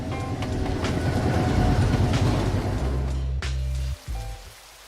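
An old steam train passes through Ella, Sri Lanka, with a loud, close rolling rumble and clickety-clack of the wagons, rain-like hiss above it, then a sudden drop near the end as it fades away.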